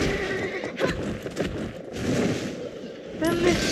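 A horse in a horse video game neighs with a shrill whinny amid clip-clopping hooves, close and clear, while a person talks in the background.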